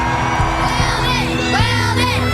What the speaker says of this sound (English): I want to hear the fans some more.